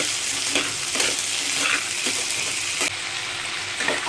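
Black chickpeas being tipped into a pan with salt and asafoetida and stirred, giving a continuous frying hiss with rhythmic scraping stir strokes, close and fairly loud, with no talking.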